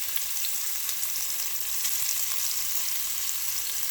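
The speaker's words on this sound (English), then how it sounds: "Hear that sizzle." Steady crackling sizzle of ham frying in a hot pan, continuous and close, with no voices.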